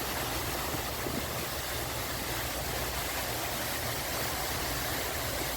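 Aloco Falls pours at full force, a steady, dense roar of rushing water that stays loud and unbroken throughout.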